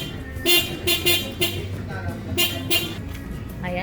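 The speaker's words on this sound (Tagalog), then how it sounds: "Ito yung original na busina." Original Japanese horn of a minivan being tested during servicing, sounding in several short, loud toots separated by gaps, with people talking in the background.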